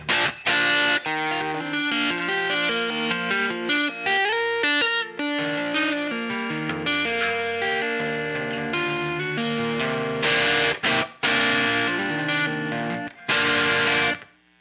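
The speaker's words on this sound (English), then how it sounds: "It's very, very, very low distortion with the mix boost into it." An electric guitar plays through a JHS Pack Rat distortion pedal with a mix boost, giving low-gain driven chords and single notes that ring out loudly and continuously with brief gaps.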